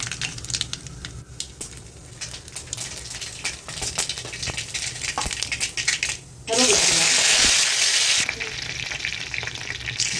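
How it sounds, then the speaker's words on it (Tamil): Mustard seeds go into hot oil in a pan while a taro root fry is being made; after scattered clicks and stirring, a loud, dense crackling sizzle bursts up suddenly and keeps hissing steadily. "எண்ணெய் ஊற்றிட்டா கடுகு கொஞ்சமாக போட்டுக்கிறேன்"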